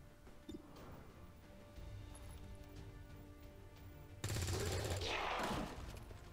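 Gunfire in the XCOM 2 game: quiet background, then a loud burst of rapid shots about two-thirds of the way through, lasting over a second before fading, with faint scattered sounds earlier.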